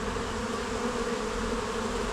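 Honey bees hum steadily at an opened poly nuc hive, a dense, continuous close-up buzz with no voices.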